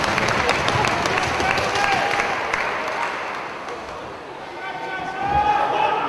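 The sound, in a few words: wrestling crowd clapping along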